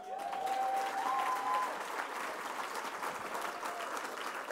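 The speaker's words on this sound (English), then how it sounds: "We can clap for that." Crowd at a political rally applauding a mayor's speech, steady distant clapping with a brief whistle near the start, sustained throughout.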